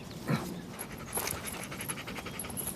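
A dog pants rapidly and hoarsely while struggling against a cord wrapped tightly around its neck, a steady close breathing rhythm with no voices present.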